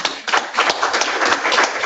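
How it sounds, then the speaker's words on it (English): A room full of people gives a sustained round of applause at a book launch, dense steady clapping from many hands throughout, fairly close and loud, with no voices over it. "Chip, for your dedicated and selfless support to the peace-building community, I think we owe you a round of applause."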